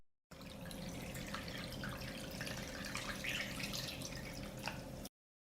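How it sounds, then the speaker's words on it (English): Water running into a pot holding glass jars set on a cloth, a steady faint trickling and dripping stream, close but quiet, with no talking. "I pour water up to the height of the lid"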